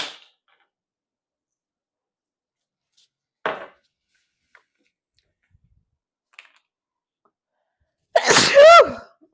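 After near silence and a few faint clicks, one loud, sharp sneeze bursts out close by.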